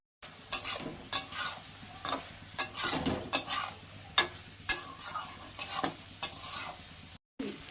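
A spatula stirs chopped tomatoes and ground sesame in a frying pan with sesame and flat beans, producing regular scraping strokes about every half second over a soft sizzle.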